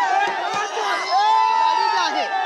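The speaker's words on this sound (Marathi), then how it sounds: "मराठा आंदोलक जे आहेत आपण पाहतोय की गोंधळ घालताना पाहायला मिळतात।" Maratha protesters crowd around Supriya Sule's car in a loud uproar, with dense overlapping shouts and whoops from many voices, close and continuous, swelling and dipping throughout.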